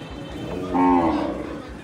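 A single close cow moo, deep and drawn out for about half a second, rises over low background noise at a cattle market.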